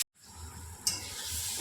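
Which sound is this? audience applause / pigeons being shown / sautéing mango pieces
sautéing mango pieces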